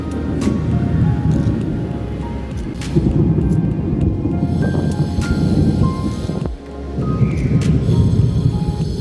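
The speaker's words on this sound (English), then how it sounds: "There is something so poetic about the rain." Rain falls with thunder, a loud broadband roar that surges and briefly dips, with deep rumbles rolling underneath and occasional sharper crackles, close and continuous, no speech.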